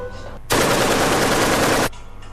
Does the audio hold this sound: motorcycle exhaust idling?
no